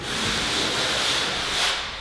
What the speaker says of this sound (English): I'm just going to barely run my sanding sponge over this just lightly